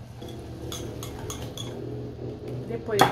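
A whisk stirs gluten-free cornmeal cake batter with grated coconut and a pinch of salt in a bowl, making soft, rhythmic clinks and scrapes against the bowl, ending in a louder clatter.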